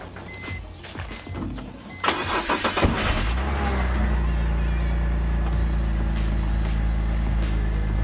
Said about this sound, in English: let's get some power and see if we can start it